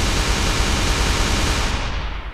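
Water cannon weapon firing in the artillery game ShellShock Live, a loud, steady rushing hiss of spraying water that holds for about two seconds before easing slightly, with no voices over it.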